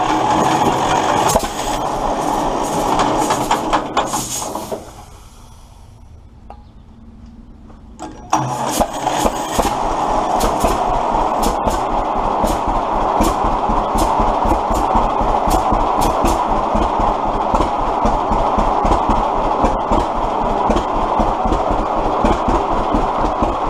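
An old engine started on full choke with the throttle about halfway: cranking and sputtering, a short quiet pause, then it catches and runs with a steady rapid loud chugging beat for the rest of the clip.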